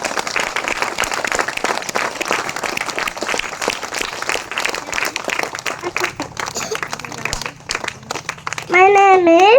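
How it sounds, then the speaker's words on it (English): Applause at a student pledge event: dense clapping from a group that thins out toward the end, with children's voices mixed in and a short burst of singing or a voice at the close. "Give a big round of applause."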